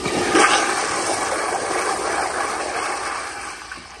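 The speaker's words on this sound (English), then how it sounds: "here is another flush." A Zurn child-size toilet flushes with a strong, steady rush of water that holds for the full stretch, close and loud, with no voices over it.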